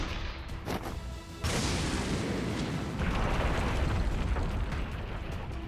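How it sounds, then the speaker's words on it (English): Cannon fire in the visual novel game Piofiore: Fated Memories: a sudden heavy boom bursts in, then a broad rumbling roar and scattering debris swell and sustain loudly to the end, with no voices. "Is that a cannon?"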